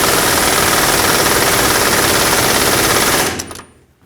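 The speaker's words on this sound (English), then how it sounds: "I'm going to do is just tighten it up with my air gun" A pneumatic air impact gun hammers a front lower control arm bolt tight on a 2004-2008 Ford F-150, a loud continuous rattling burst close up that runs for about three seconds, then cuts off abruptly.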